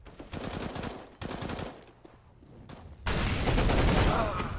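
Bursts of M4 rifle fire spraying in CS:GO, without a silencer: two loud rapid-fire strings, a quieter lull, then a sustained dense volley of gunfire near and loud.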